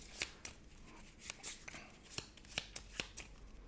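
A deck of game cards is shuffled by hand in sharp, crisp riffling bursts, about a dozen quick snaps in an irregular rhythm, close and fairly quiet with no voices.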